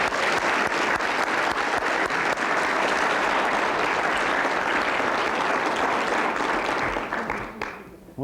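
Sustained applause from a speech contest audience, dense steady clapping at full loudness for about seven seconds before tapering off near the end.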